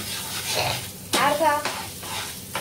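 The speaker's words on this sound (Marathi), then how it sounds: "अंडी टाकल्यावर व्यवस्थित कांदा आणि टोमॅटो त्याच्यामध्ये परतून घ्यायचा आहे" Eggs sautéed with onion and tomato in a pan for street-style egg bhurji, a close spatula stirring and scraping over a steady sizzle, with one louder burst of scraping midway.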